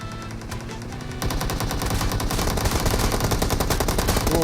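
Sustained bursts of rapid automatic gunfire in the mobile battle royale game PUBG Mobile, dense and loud, growing heavier after the first second with no talk over it.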